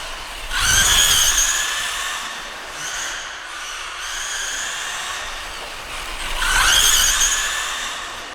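A Losi 22S electric RC sprint car whines at high pitch as it accelerates, with two louder surging bursts near the start and end as it slides sideways under counter steering, and no talking.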